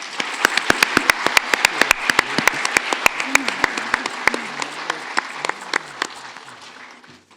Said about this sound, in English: A masterpiece like that deserves another round of applause.